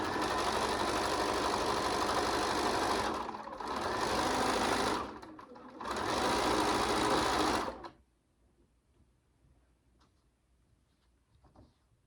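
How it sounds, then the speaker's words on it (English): A sewing machine stitches an eighth-inch seam across a fabric drawstring casing. It makes a fast, loud, close mechanical whirr in three bursts with two short pauses, then stops and is followed by near silence. "I just sew across here with an 1/8 inch seam just to hold it in place."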